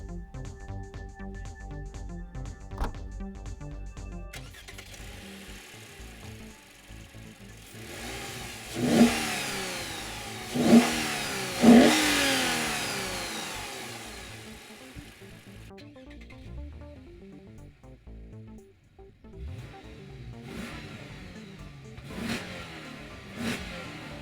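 Idle of the 3.5-liter V6 in a 2015 Lexus RC 350 F Sport coupe, broken by three sharp revs near the middle that climb and fall away, then a few more brief blips near the end, with no voices.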